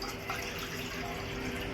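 Water is poured from a small bowl into a cooking pot, a steady close splashing trickle with no talk.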